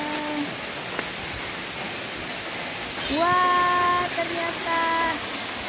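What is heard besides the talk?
waterfall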